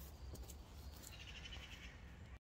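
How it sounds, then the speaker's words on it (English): Rooks and crows calling from a colony in woodland, faint and distant, with harsh caws rising above a soft background of rustle and wind before a sudden cut. "rooks and crows, and they're all coming in and having to fly about and causing a right old raucous noise"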